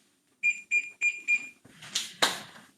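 Kitchen timer being set for a 15-minute roast: four short, evenly spaced electronic beeps, close and clear, followed by a couple of soft clicks and rustles.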